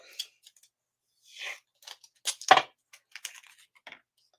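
Scissors snip through white glitter cardstock in a quiet room, a handful of short, crisp cuts and rustles spaced irregularly, close to the mic with no talking.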